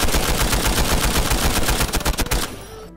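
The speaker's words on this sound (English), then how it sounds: "Redux by Nady 2283 is one of the best and most satisfying LMG mods I have ever used in Fallout New Vegas" A modded LMG in Fallout New Vegas fires a sustained burst of rapid, loud, punchy shots for about two and a half seconds, then cuts to a short ringing tail.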